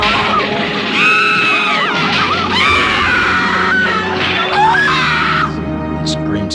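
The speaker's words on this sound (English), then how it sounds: "The screams frightened him." A woman's loud, sustained screams in a horror audio drama, rising and wavering in several long cries over a dark backing of low rumble, continuous and close for the whole stretch.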